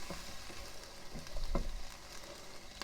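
Onions fry in a pan for a camp-style Thai green curry, giving a steady close sizzle with faint crackles and a soft stir partway through, and no voices.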